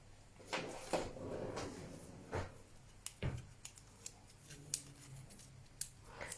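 Scissors snip through paper in a series of short, sharp cuts at an uneven pace, close up and fairly quiet, with soft rustling between the snips.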